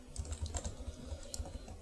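Rapid, light clicks of a computer keyboard during Metin2 gameplay, close and quick, with no voices.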